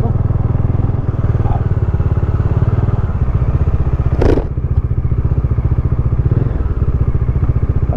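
Modenas Dominar 400 motorcycle engine idling steadily and close by with a deep, even rumble, near a guard house; a sharp clatter breaks in once partway through.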